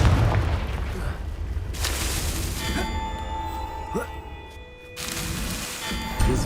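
Confringo fire spell explosions in Hogwarts Legacy, a few booming bursts with crackling fire and ringing tones, mixed with other game sounds and a shouted spell cast.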